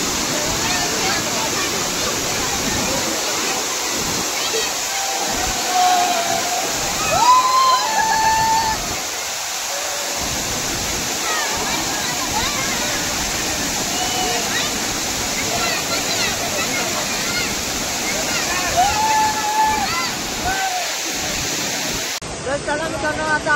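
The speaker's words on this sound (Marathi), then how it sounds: "चला मित्रांनो आता आम्ही आले मोठ्या धबधब्यावर" A large waterfall at Malang Gad roars as a continuous, full rush of falling water with people talking and calling over it.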